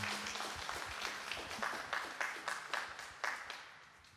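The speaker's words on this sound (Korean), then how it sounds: "우리 박수로 환영하겠습니다" At a Korean talk on colorectal cancer, an audience gives a modest round of applause welcoming an elder to the stage, individual claps distinct and fairly close, gradually thinning toward the end.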